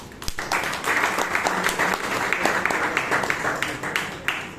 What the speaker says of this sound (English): So let us give ourselves a huge round of applause.